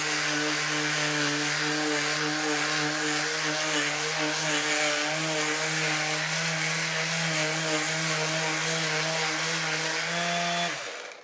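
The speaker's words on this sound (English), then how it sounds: "We're going to sand it now." A power sander whines steadily over painted fabric, one continuous tonal hum running close and loud for about ten seconds before cutting off, with no voices.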